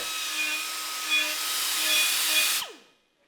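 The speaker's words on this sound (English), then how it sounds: "Deburr your parts." A power tool deburrs machined metal parts in a shop, giving a loud, steady, high whine for about two and a half seconds before the motor spins down into silence.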